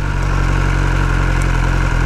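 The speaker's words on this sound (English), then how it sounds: "Start your engine, hold the clutch" A 2021 BMW S1000R motorcycle engine runs at a steady idle, a loud, close, even mechanical drone that continues without a break and has no speech over it.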